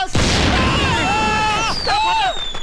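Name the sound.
firecrackers being set off outside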